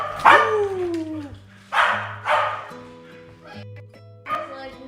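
Puppies barking and yipping indoors, a few short sharp yaps spaced across the moment with a high whimpering tone, mixed with people talking nearby.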